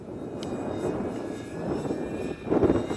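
Avios Albatross HU-16 RC model flying boat in Coast Guard livery flying in gusty wind, a steady moderately distant engine drone that swells slightly near the end.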